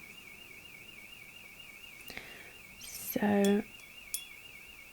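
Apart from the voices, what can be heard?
builders' alarm going off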